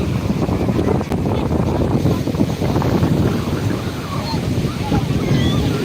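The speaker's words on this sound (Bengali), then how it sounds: "ঢেউয়ের ধাক্কায়" Loud, continuous roar of surf and wind at Digha beach, with waves churning and breaking close by without pause.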